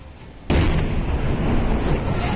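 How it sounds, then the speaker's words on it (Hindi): Explosions inside a burning factory: a sudden loud blast erupts about half a second in, then a dense, sustained roar of booming and crackling continues steadily, with no voices. "इस दौरान उसमें धमाके भी होते सुनाई दिए, जिसने आसपास के लोगों को खौफ से भर दिया।"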